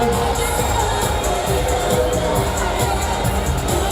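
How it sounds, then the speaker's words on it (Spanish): Crowd at a carnival award ceremony cheering and clapping, a dense loud roar of shouts and applause with excited voices mixed in, sustained throughout. "Aplauso para o segundo de bacharelato A."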